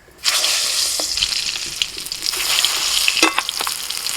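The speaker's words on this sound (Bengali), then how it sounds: "লম্বা লম্বা বেগুন ভেজে নেব।" Long eggplant slices fry in oil with a loud, close, continuous sizzle that crackles and hisses, with occasional sharper spatters.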